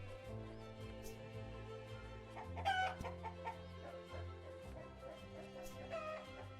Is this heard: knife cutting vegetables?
no